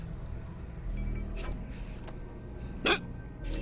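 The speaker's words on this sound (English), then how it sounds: "Hiccups." A single sharp hiccup sounds in a Half-Life: Alyx VR game scene, with a fainter one earlier, over low ambient hum and rumble.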